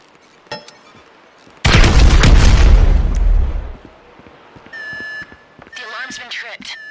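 A loud, deep explosion in Grand Theft Auto 5 booms for about two seconds, then fades into a series of electronic beeps and tones.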